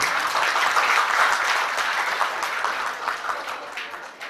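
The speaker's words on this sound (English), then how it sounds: "please welcome Mr. Shyam Jaju ji with a big round of applause" An audience at a Delhi community event gives a big round of applause to welcome a guest speaker onto the stage. It is dense, loud, sustained clapping from a crowd that slowly thins and fades over a few seconds.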